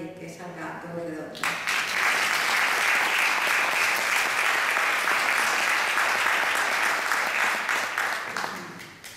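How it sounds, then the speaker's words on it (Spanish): An audience at a conference bursts into strong applause welcoming a speaker, dense sustained clapping filling the room for several seconds after a brief stretch of talk, then tapering off at the end. "pido un fuerte aplauso para animarle"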